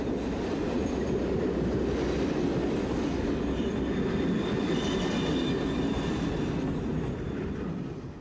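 An SNCF 72000 class diesel locomotive hauls a train with a loud, steady rumble and rolling wheel noise, constant throughout and easing slightly at the end, with no talk.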